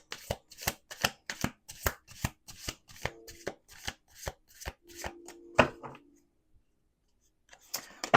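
Oracle cards are riffled and tapped in quick, rhythmic bursts close by, followed by a short silence and a couple more soft taps.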